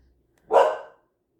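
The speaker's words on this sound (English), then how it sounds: "If she don't quit barking." A single sharp dog bark, fairly close and loud, rising out of near silence and fading quickly.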